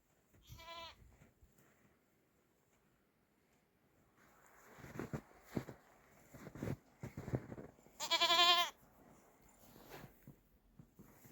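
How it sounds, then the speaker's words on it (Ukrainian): A goat bleating outdoors in snow on a village walk at about minus ten degrees, two loud quavering bleats far apart, with crunching footsteps and rustling in between and no talking. "Козик. Козя. Козенька."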